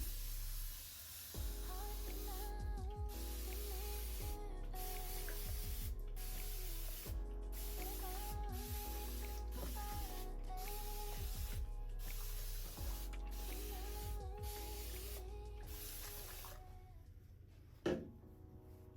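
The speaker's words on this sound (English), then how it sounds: "So I'm gonna spray my hair." A spray bottle misting hair makes a long, steady hissing spray with brief pauses and a faint whine underneath, close by, with no talking.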